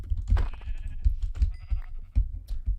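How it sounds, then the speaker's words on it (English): Sheep bleating in a Minecraft survival game, several short nasal bleats repeating close by, with faint game sounds around them. "Ooh, we got sheep"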